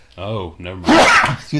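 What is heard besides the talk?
sneeze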